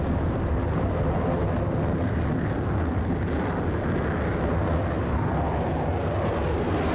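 Roaring jet noise from a Roblox F-35A fighter in a video game demo flight, a steady broadband rumble that holds loud and unbroken throughout, with no voices.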